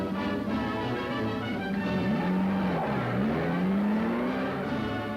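An MG MGB sports car engine revs loud and close, its pitch sweeping up and down through the gears as it accelerates, with steady road and exhaust noise underneath.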